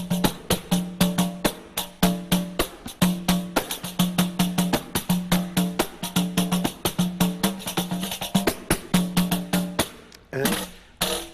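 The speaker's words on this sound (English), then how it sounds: "And this is the sound of the samba." A tambourine plays a steady, driving Brazilian samba rhythm, loud and close, with rapid repeated strikes and jingles in a looping pattern throughout and a brief change near the end.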